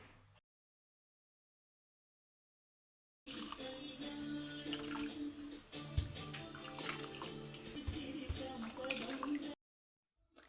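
Paneer squeezed hard in a cotton cloth releases water, a close splashing, trickling stream pouring steadily for several seconds between stretches of silence.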